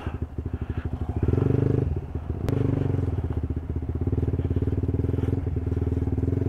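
A motorcycle engine chugs steadily nearby, briefly revving louder, with a sharp clack and rattling bumps as it rolls over a rough motorcycle parking area.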